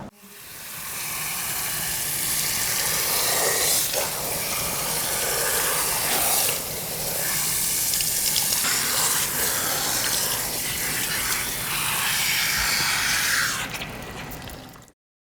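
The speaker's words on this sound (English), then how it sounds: "So we've completed rinsing Anna's hair" Water runs steadily from a salon sink sprayer while hair is rinsed after a detoxifying scalp scrub, a close, continuous gushing and splashing that fluctuates slightly through the rinse with no voices.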